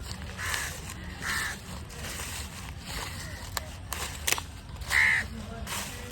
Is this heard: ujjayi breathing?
no